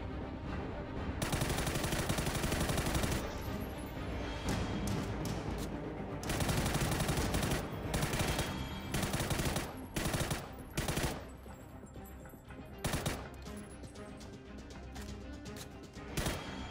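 Rapid automatic gunfire in PUBG Battlegrounds training bursts loudly and repeatedly, with long sustained volleys broken by short pauses and single shots toward the end, with no talk.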